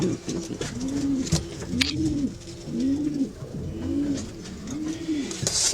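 Breeding racing pigeons coo in a loft, about five rising-and-falling coo calls in a steady rhythm, close and clear, with faint rustling and a few sharp clicks around them.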